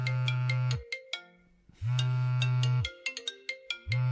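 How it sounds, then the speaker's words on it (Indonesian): A mobile phone ringtone for an incoming call plays a repeating electronic melody with a steady low buzz under it, loud and close, cycling through about three rounds. "Telepon penting masuk."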